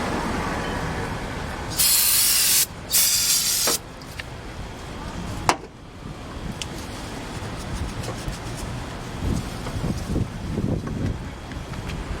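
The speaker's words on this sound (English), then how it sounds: "A brake cleaner." Brake cleaner sprayed from an aerosol can during an engine rebuild on a 1997 Honda Civic, two loud hissing bursts about a second each, then shop noise and low clatter around them.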